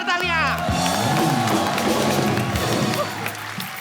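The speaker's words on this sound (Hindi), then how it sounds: "एक बार शंकर एहसान लोग के लिए जोरदार तालियां।" Loud studio audience applause on a TV comedy show, a dense burst of clapping and cheering that carries on throughout while a host speaks over it.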